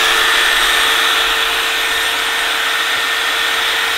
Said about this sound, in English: It's an automatic mixer made with a drill.